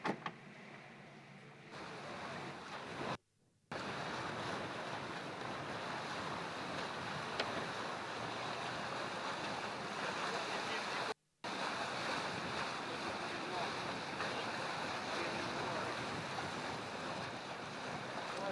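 Racing yacht Sun Hung Kai Scallywag at sea, with a steady rush of ocean waves, water and wind noise filling the clip, continuous and close, broken by two brief dropouts.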